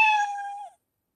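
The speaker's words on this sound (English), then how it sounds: "see it is showing the sound of this meow." A single cat meow sound effect plays in Scratch software, one clean, clear tone lasting under a second that ends abruptly, followed by silence.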